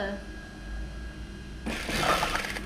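A sewing machine stitching the edge of a woven mat starts partway through, running as a steady mechanical whir after a quieter stretch of room noise.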